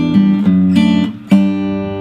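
Opening section of a song played on guitar: a few strummed and picked chords with sharp attacks ringing out, close and loud, with no voices.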